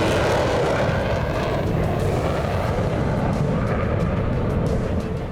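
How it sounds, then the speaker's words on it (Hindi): Israeli fighter jets flying over southern Lebanon in wartime: a continuous, loud, broad roar of jet engines overhead, steady throughout and tapering slightly at the end. "इजराइल के फाइटर जेट आसमान में मंडराते हैं"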